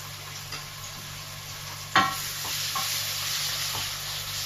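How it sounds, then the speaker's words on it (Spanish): Beef for Hungarian goulash frying in hot oil in a pot makes a constant sizzle, with a sharp clatter near the middle and a few light stirring scrapes after it. "cuando el aceite esté caliente, lo que haré será empezar a sofreír la carne"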